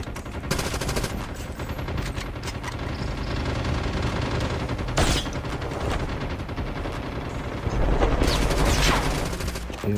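Call of Duty Mobile gunfire on the Alcatraz map: dense, loud automatic bursts and rapid shots crackle almost continuously, with heavier volleys layered over game ambience and no clear talk.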